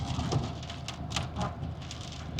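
Steady rain falling on a tree-lined street in western Slovenia, a soft, faint hiss of patter with light irregular splashes throughout.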